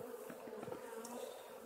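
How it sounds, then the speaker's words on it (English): A honeybee swarm crowding the entrance of a Warré hive, giving a steady, close insect hum throughout with no voices. "There were so many bees in this swarm, they were jamming at the entrance."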